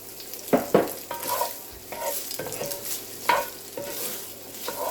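Spam browning in a pan with onions, a close sizzle punctuated by irregular scrapes and clacks of a spatula stirring the meat, with no one speaking.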